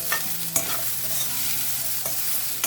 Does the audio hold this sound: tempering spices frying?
yes